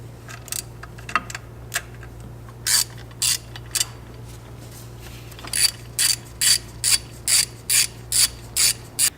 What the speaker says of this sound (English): Now you've removed the 5 Torx screws holding the intercooler mounting bracket on.